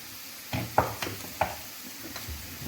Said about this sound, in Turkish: Bunları da karıştırıyorum.